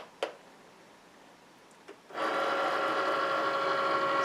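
A Cricut Maker cutting machine clicks briefly twice, then starts up into a loud, steady whirring motor hum that runs close and continuous to the end.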